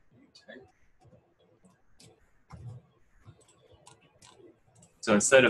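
A computer keyboard being typed on while entering code: a short, loud burst of rapid clicks comes at the very end, after a mostly quiet stretch with faint scattered sounds.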